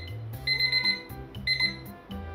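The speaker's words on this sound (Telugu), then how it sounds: "అలారం మోగుతుంది." An alarm clock rings in a home kitchen, sounding in repeated bursts of bright electronic beeping with short gaps between them, close and clear with no talk.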